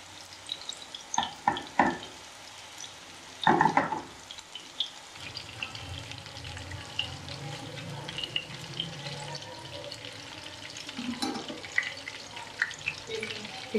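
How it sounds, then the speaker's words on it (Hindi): Chicken malai kebabs fry in hot oil over a medium flame, a soft continuous bubbling sizzle broken by a few sharp clatters and knocks as pieces are added and moved, close and fairly quiet, no voices. "ऑयल गर्म हो चुका है, अब इसमें एक एक करके कबाब डालेंगे। मीडियम फ्लेम पे हम इसे पका रहे हैं।"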